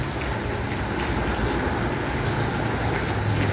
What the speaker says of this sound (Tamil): இப்போது சூப்பராக மழை பெய்யுது.